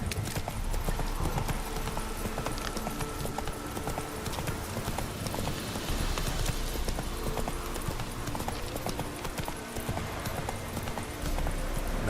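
Roach the horse trots in The Witcher 3, hooves clip-clopping in a steady, continuous rhythm at close range over game ambience, with no speech.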